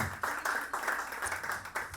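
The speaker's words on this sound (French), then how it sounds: "Je vous demande de l'applaudir, mesdames et messieurs." An audience applauds at a televised arts and literature slam poetry event, a brief burst of clapping heard at moderate distance.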